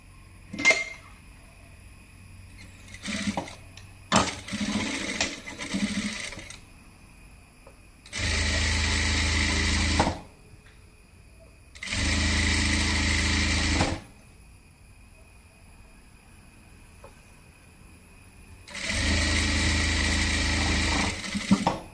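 Sewing machine stitching the collar of a V-neck kurti, running in three steady bursts of about two seconds each, close and loud, after some quieter handling clatter of cloth and parts.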